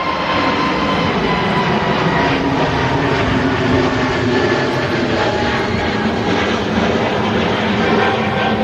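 An Airbus A320neo roars through its takeoff run and rotation at Manchester Airport, a loud sustained jet engine rush that stays steady throughout without talk.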